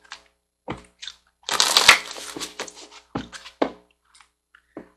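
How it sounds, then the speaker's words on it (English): Soul Coaching Oracle cards are handled and shuffled close by in quick papery bursts, with one dense riffling flurry followed by scattered light taps and slides. "so let's get the last card out. We're going to use the Soul Coaching Oracle cards"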